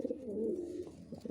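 A racing pigeon in a loft utters one soft, low, rolling coo, faint and close, with no voices.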